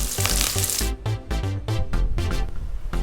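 Onion, green chili and curry leaves sauté in hot oil, sending out loud crackling sizzle with rapid, choppy bursts as the pieces are stirred.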